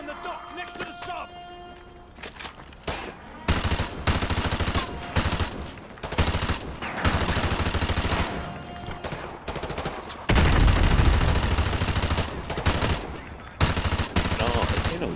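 Gunfire from shooting at enemies in Call of Duty Modern Warfare 2 Remastered: loud, dense bursts of automatic fire and single shots come in repeated volleys over the whole stretch, with heavy blasts near the end and a voice talking between them.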